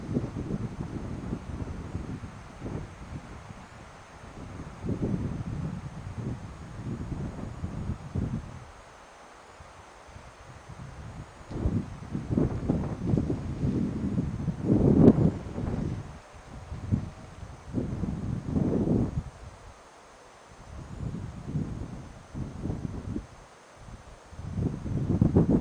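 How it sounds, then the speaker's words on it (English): Wind blows outdoors with a steady, low rumble from the distant Pacific Ocean beneath it, swelling and easing in gusts over a long stretch with no voices. "Listen to the wind. In the distance, I can hear the mighty Pacific."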